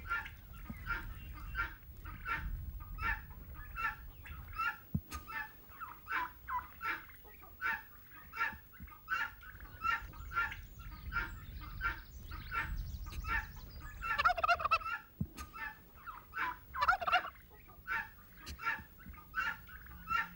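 A male turkey gobbles repeatedly during a courtship display, rapid rhythmic calls every second or so, with a louder, more excited burst near the middle over a low background rumble.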